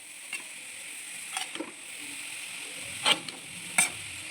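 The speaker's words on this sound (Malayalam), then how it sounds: "ഫുള്ള് ഗോബി ഇട്ടിട്ട് നമ്മൾ നന്നായിട്ട് ഇളക്കിക്കൊണ്ടേയിരിക്കണം" Cauliflower florets fry in a pan over a medium flame with a faint, steady sizzle, broken by a few soft scraping knocks as they are stirred.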